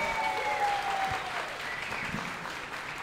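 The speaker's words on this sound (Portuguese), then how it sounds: "uma salva de palmas para todos vocês!" Steady, dense applause from a comedy club audience at a hypnosis show, filling the room evenly for the whole stretch with no break.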